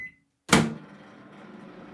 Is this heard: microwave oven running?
yes